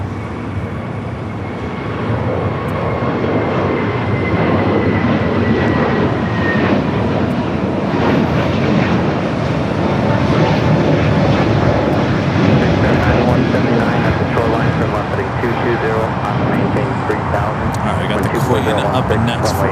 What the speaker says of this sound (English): This is American A320 with Neo heading to Phoenix